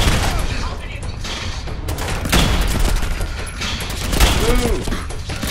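Rapid bursts of gunfire from a gun in Fallout 4, set in an insane asylum, crackle loudly and almost continuously with heavy impacts, while voices talk over the shooting.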